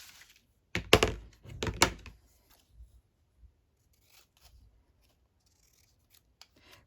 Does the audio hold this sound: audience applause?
no